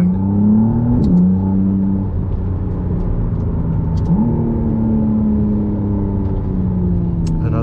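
Inside a McLaren Artura, the engine sits right behind the cabin, droning steadily and climbing in pitch before two quick gear shifts drop it back, close and loud throughout with no talk.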